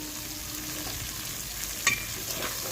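Onions and green chillies sizzle with salt and cumin in a pan over a wood-fired stove, a soft continuous frying hiss with a faint clink partway through and no voices.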